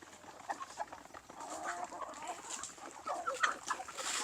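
Chickens and roosters at a farm feeding area cluck and chatter in a busy, moderately quiet flock, with overlapping calls throughout and no speech.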